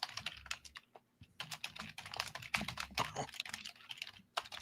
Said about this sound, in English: I got to type it in the poll here.